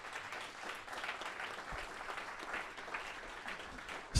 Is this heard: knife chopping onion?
no